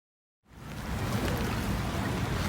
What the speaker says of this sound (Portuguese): Não tá chovendo, mas tá ventando muito.